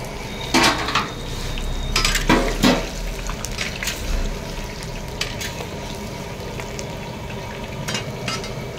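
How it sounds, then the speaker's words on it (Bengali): Young jackfruit with potato, soybean chunks, beans and carrot fries in hot oil in a kadai, with steady sizzling, scraping and clattering spatula strokes on the metal pan and no talking. "ইঁচড়টা ভেজে নেবো আগে।"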